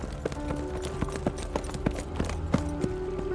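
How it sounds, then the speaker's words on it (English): Horse hooves clip-clop in an irregular, steady stream, close and fairly loud, with no talking, for watered horses stationed at the back. "There are watered horses stationed in the back."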